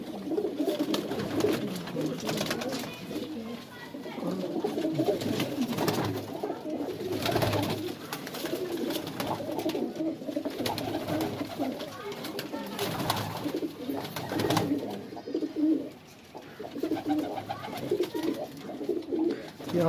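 Madrasi racing pigeons in a loft in Ajmer, Rajasthan keep up a low, dense cooing chorus for about twenty seconds. Rustling and a few sharp knocks break in now and then.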